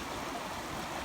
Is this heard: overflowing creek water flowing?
yes